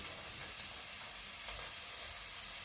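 Onions frying in a hot pan for a Philly cheese steak, a continuous broad hiss and sizzle, close and steady without a break.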